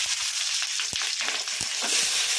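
Small onions fry in hot oil for sambar in a home kitchen, a continuous crackling sizzle with a few soft knocks of stirring, close by and with no talk.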